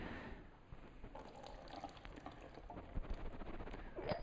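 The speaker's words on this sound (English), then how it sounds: "Always good to give your soaked nuts a rinse" Running water rinses soaked nuts in a kitchen, giving a steady splashing, trickling wash with a few small drips and knocks, heard close up and without speech.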